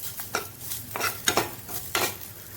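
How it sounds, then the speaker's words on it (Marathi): Onion fries in about half a spoon of oil while a spoon stirs it, soft sizzling broken by several quick scraping strokes, close and quiet, with no voices. "आणि कांदा एका तेलामध्ये परतून घ्यायचा आहे"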